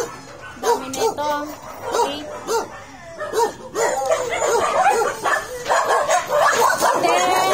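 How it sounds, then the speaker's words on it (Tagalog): Many rescue dogs bark, yip and whimper together in a noisy chorus, overlapping close and distant barks building in intensity, while a person talks over the din. "Ang dami aso."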